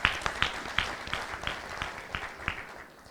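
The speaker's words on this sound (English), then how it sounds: "We should clap for ourselves." Rotary club members at a joint fellowship meeting of districts 9213 and 9214 clap for themselves, a thin scattering of distinct hand claps in an indoor hall that loosens and fades over a few seconds.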